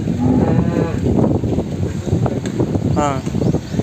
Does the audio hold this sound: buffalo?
yes